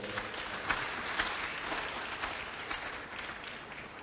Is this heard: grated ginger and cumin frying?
no